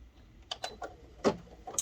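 An embroidery machine sews the placement stitch for a strawberry applique piece, giving a few quiet, irregular ticking clicks in a hushed room.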